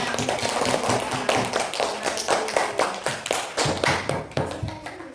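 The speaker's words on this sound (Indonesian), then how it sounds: "Ya, tepuk tangan." Children in a fourth-grade classroom clapping their hands in a loud, rhythmic, roughly unison pattern, sharp slaps repeating close by with a few voices underneath.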